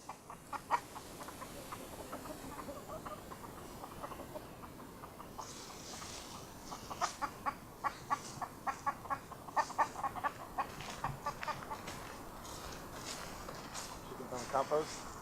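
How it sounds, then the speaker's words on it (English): Chickens clucking on a compost heap outdoors: scattered short clucks and calls in irregular bursts, growing busier midway, over steady background noise and a voice talking. "Chickens on the compost."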